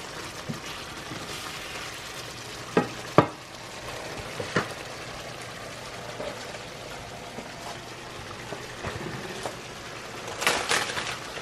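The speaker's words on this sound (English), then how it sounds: "I've just been kind of breaking up some of the big chunks. I should have maybe just took them out of the little sausage thing" Chunks of sausage break apart in a frying pan, with quiet sizzling throughout and a few sharp scraping clicks of a utensil against the pan.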